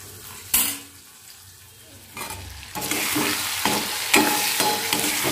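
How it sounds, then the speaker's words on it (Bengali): Potatoes and cabbage sautéing with tomato, sugar, ginger, cumin and turmeric in a pan, a building sizzle with rhythmic spatula scraping and clanks against the metal, loud and close. "কপির আলুটা ভেজে তারপরে টমেটো দিয়ে চিনি, আদা, জিরার গুঁড়ো, হলুদের গুঁড়ো দিয়ে ভালো করে কষিয়ে নিচ্ছি।"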